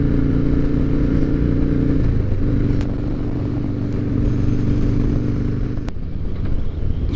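A motorcycle cruising on the road on a warm, slightly windy day, its engine a steady loud drone with a gear change, wind rumble and a few clicks, no talk.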